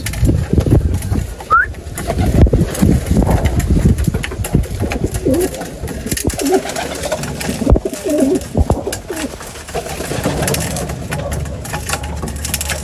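Racing pigeons feeding after a hard summer race, with soft pecking and shuffling close by, a few coos, and a low engine rumbling in the background throughout.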